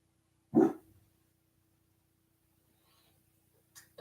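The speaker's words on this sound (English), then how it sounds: "Dog's gone off again." A single dog bark rings out once, fairly loud against a quiet indoor room, followed by a few seconds of near silence and a faint stir at the end.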